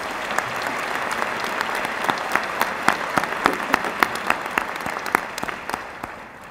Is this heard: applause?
yes